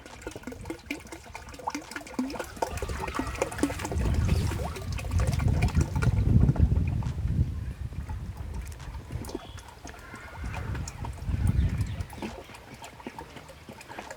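Liquid sloshes and trickles as cow urine is poured into a water barrel and mixed, five litres to two hundred litres of water, while making jeevamrut. The splashing is continuous, swelling in the middle and again near the end.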